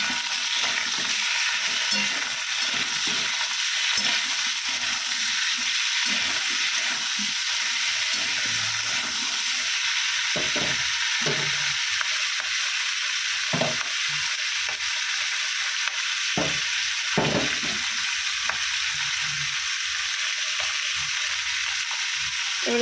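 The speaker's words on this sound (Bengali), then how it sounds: "আলুটা ভাজা হোক, তার সাথে পেঁয়াজ কলিটাও দিয়ে দিই" Potatoes and onions frying in a pan with green chillies, a continuous oily sizzle and hiss broken by repeated scraping and stirring strokes of a spatula, close and steady with no talk.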